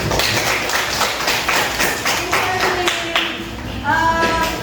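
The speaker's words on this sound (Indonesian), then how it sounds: "Give applause to Evelyn" Classroom applause for a student named Evelyn: a short burst of loud clapping from a group, mixed with taps and some voices.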